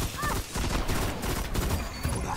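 Gunfire in the Destiny video game, a rapid burst of overlapping shots that fills the whole moment, loud and close, with no clearly separate single shotgun blasts.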